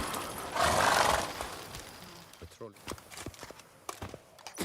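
Roach, the horse in The Witcher 3, gives a loud close whinny followed by a run of trotting hoof clops, with game ambience underneath.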